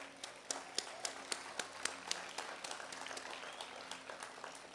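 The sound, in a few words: applause for city staff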